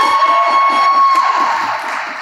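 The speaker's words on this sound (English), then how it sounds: "let's give her a huge round of applause" An audience at a youth mental health panel event cheers and claps loudly for a presenter in a short, dense burst of crowd noise.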